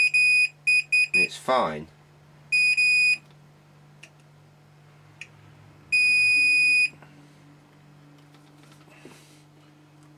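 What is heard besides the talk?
multimeter continuity test beep on radio circuit board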